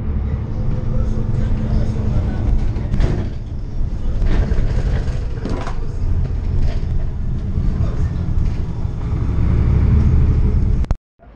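A city bus ride lasting about an hour, heard from inside as a loud, steady low rumble of engine and road noise with faint background voices, cutting out abruptly at the end.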